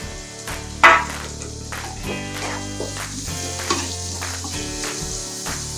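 Onion, capsicum and carrot sizzle and fry in a pan for a street-style egg rice, with a steady hiss and a few stirring knocks beneath continuous background music.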